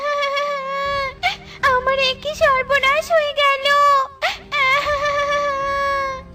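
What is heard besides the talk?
cartoon character crying and wailing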